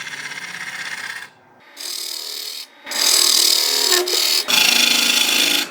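16 mm bowl gouge cutting an octagon winged wooden bowl spinning on a lathe: a loud, close, rasping shear of wood in several long passes, broken by short gaps, the later passes harsher and brighter.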